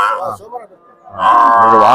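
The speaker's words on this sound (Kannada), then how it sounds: "ಒಳ್ಳೆ ಎಮ್ಮೆ ಹಾಕೊಂಡ್ ಬಂದ್ರಿ. ಐತ್ ಮಾರ್ಕೆಟ್ ದೊಡ್ಡ ಎಮ್ಮೆ." Buffaloes at a Monday cow and buffalo market in Chitradurga give a loud, drawn-out lowing bellow that swells near the end, after a quieter, shorter call at the start.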